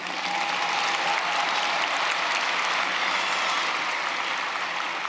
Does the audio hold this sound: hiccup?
no